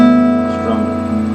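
Acoustic guitar with freshly tuned strings strummed once as a full chord, ringing out steadily and fairly loud up close, sustaining and slowly fading without any talk.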